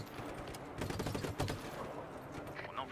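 Sniper and other gunfire in the video game Just Cause 3, a dense, continuous clatter of shots and explosions in a busy combat mix, moderately loud.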